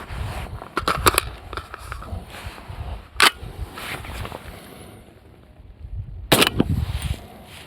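Two suppressed shots from a PSA JAKL rifle in 300 Blackout fire several seconds apart, each a sharp muffled crack with faint mechanical clatter after it, amid quieter handling noise and outdoor background.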